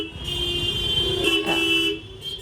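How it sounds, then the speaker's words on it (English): A car horn blares in one long, continuous, loud honk on a busy Nagpur street heard from a motorcycle ride, over a steady rumble of engine and traffic noise. "what are you honking at so loudly and for so long?"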